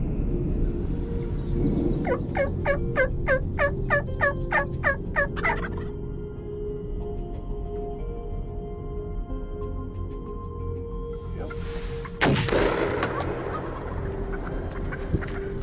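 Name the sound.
turkeys gobbling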